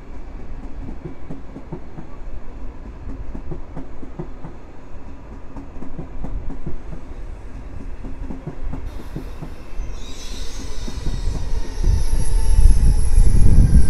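A Polish passenger train runs from Kołobrzeg to Kraków Główny and passes through Warszawa Wschodnia station, with steady rolling rumble and rhythmic wheel clatter that swells louder near the end, joined by a high wheel squeal.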